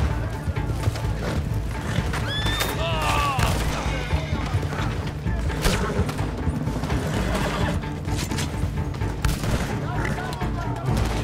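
Rapid bursts of gunfire in the online shooter game Red Dead Redemption 2 Online, including shotgun blasts, mixed with hoofbeats from horses and game sounds, while players talk over the action.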